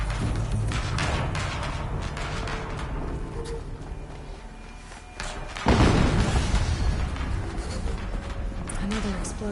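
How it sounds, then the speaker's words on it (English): Another explosion in a tank video game, a heavy booming burst partway through that rises out of continuous rumbling combat noise. "Another explosion."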